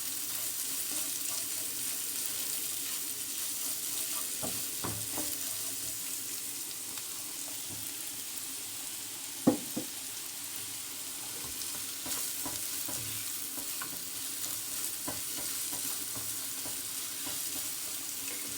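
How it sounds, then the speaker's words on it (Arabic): Grated carrot sautéing with garlic in a pan, a continuous soft sizzle with occasional scraping clicks of stirring, steady and close with no talk. "هننزل بقى بشوية من الجزر المبشور وهنشوحه هو كمان مع الثومة"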